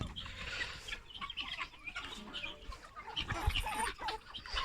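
Chickens cluck and squawk in agitated bursts as a dog chases them, with scuffling movement and outdoor rustle throughout.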